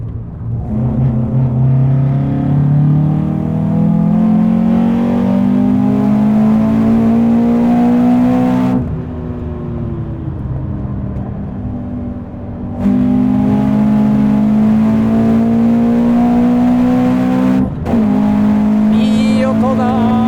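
A Toyota DK86 race car's engine on a busy track, loud and close, revving up through the gears in long rising pulls with two brief lifts between, no talk over it.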